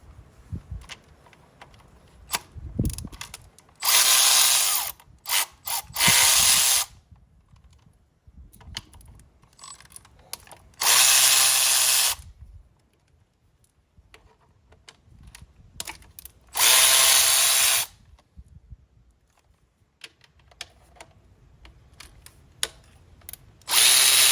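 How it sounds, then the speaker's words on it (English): A Milwaukee electric cordless ratchet whirs in several loud, close bursts of a few seconds each as it breaks bolts loose on a car, with clicking and handling noises between runs and no talk. "now I'm just gonna use both ratchets to break a couple of random bolts loose on this car"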